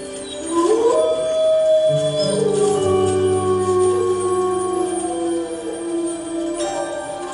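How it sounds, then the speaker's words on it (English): Wolves of the Sawtooth pack howl together, one long rising howl joined by several overlapping voices at different pitches, sustained and clear, with no talking. "Wolves howl at any time, day or night, sometimes in response to a distant sound,"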